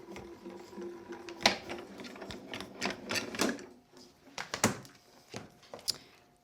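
A hand-cranked die-cutting machine feeds a base plate and cutting plate through its rollers, making a close, uneven series of clicks, clunks and grinding rattles with short pauses in a quiet craft room.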